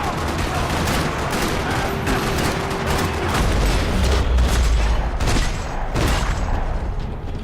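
Gunfire in the video game Max Payne 3, dense rapid bursts of rattling shots and booms in a parking lot shootout, loud and continuous throughout.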